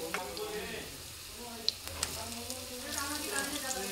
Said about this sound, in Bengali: সবগুলো উল্টিয়ে আমি আরেকটু ভেজে নেব।